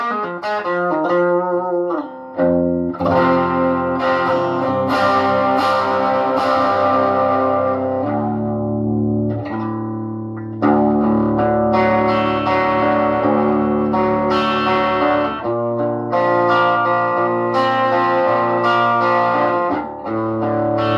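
An electric guitar played through a cranked Monoprice Stage Right 5-watt amp set to 1 watt rings out loud and distorted, with sustained chords and riffs that go on continuously, broken by a few short pauses.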